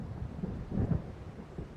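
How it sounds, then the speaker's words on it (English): Deep, low thunder from an approaching storm rumbles in the game Alan Wake, a distant rolling swell that peaks briefly midway, with no talking. "It seems there's a storm coming."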